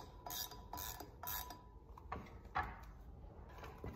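A bolt being tightened on a Ski-doo 850 Turbo QRS secondary clutch, with faint ratcheting clicks and small metallic mechanism sounds in quiet surroundings.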